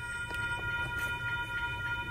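A train runs along railway tracks with a steady low rumble, soft rhythmic knocks and a high, sustained tonal whine, all at a constant moderate level.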